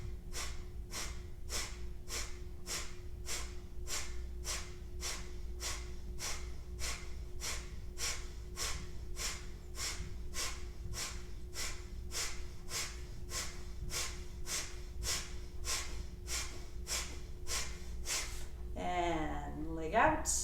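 Rapid breath-of-fire yoga breathing while balancing with arms extended: sharp, forceful exhales pulse steadily at about two per second for roughly eighteen seconds, close and even, over a constant low background hum.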